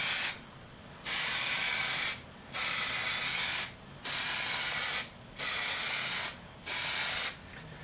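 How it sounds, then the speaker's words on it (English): Plasti Dip aerosol spray paint sprayed onto a guitar body in five or six separate bursts of roughly a second each, a loud close hiss that stops abruptly between passes, with no talking. "you're going to want to overlap your sprays by half a spray"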